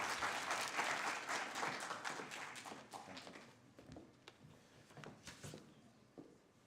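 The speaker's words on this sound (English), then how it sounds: "Let's give him a warm round of applause as he makes his way on stage." An audience at an International Migrants Day 2023 event applauds as a guest walks onto the stage. The clapping starts full and dense, then thins into scattered claps and taps as it fades.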